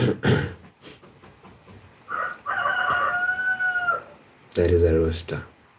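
A rooster crows at dawn, one long drawn-out crow in the middle of the clip, with another loud burst near the end and short sounds between, heard close and fairly loud.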